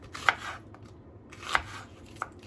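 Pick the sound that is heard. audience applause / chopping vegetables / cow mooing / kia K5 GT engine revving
chopping vegetables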